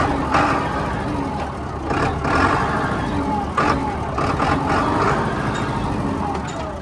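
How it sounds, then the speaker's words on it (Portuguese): A Ford dump truck pulls away in low-range first gear, its engine a steady, loud, close drone that swells slightly, with a voice heard faintly over it. "Vamos ver se eu lembro botar marcha no Ford, hein? Vou sair de primeira reduzida."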